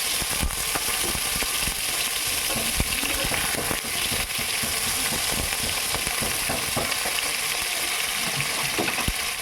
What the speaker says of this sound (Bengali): এখন পনিরগুলোকে আমি এপিট ওপিট করে ভেজে তুলে নিচ্ছি।